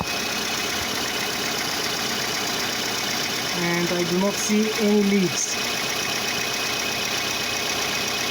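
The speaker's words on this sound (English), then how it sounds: "Okay, engine seems to be running," A Mazda 626 GF engine idles steadily at close range with a constant mechanical hum, and someone talks briefly over it.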